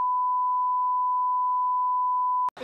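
A single steady censor bleep tone holds loud and alone for about two and a half seconds before cutting off abruptly at the end, inside an Indonesian football fan talk show.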